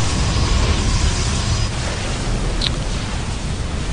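Photon cannons are destroyed in a StarCraft match, a dense roar of explosion noise with muffled bursts layered into a continuous wash and a brief sharp pop near the middle.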